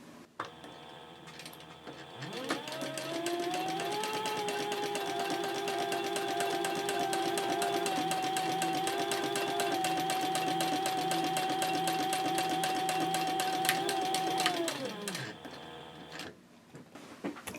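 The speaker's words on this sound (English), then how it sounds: "I'll pivot and go ahead and sew down the other side" A sewing machine stitches a Bellezza handbag, running steadily for over ten seconds with a rapid mechanical whir and ticking, then slowing to a stop.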